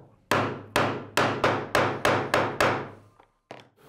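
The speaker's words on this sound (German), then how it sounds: "praktisch ist es, wenn man Locheisen in verschiedenen Durchmessern hat, sodass man die verschiedenen Radien, die an einem Werkstück sind, damit einfach durchschlagen kann" A hole punch struck with a hammer through leather for a knife sheath, eight sharp evenly spaced blows in a steady rhythm, then a pause and a lighter final tap, close and alone.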